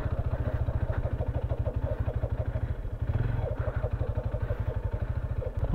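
A motorcycle engine idles close by with a steady, rapid low thumping rhythm, briefly dipping partway through before resuming.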